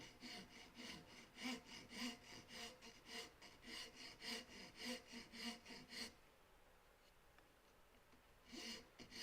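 Wooden box being hand sanded, steady rhythmic back-and-forth rasping strokes, close and fairly quiet, a run of about a dozen strokes, a pause, then a couple more.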